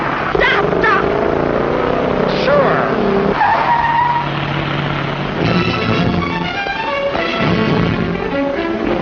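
Tires squeal hard and long as a speeding car skids on the road, loud and close with engine noise beneath, while voices shout over the commotion.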